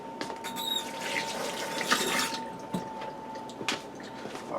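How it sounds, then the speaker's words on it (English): Hands being rinsed under a running tap at a kitchen sink during stuffed pepper prep, a steady close wash of water with splashing and dripping and no talking. "I'm going to give my hands a quick rinse."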